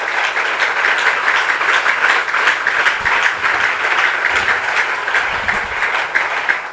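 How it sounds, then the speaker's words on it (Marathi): A church congregation applauding during worship, a steady, dense wash of clapping from many hands that holds loud and unbroken throughout, with no voices rising above it. "गौरवासाठी टाळ्या वाजवतो"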